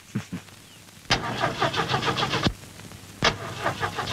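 A car engine cranking in a film scene: two short starter attempts, then a longer grinding crank that catches briefly and cuts out, followed by another crank burst, all close and without speech.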